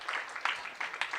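Faint, brief applause from a small audience, a short spatter of clapping with a few louder bursts.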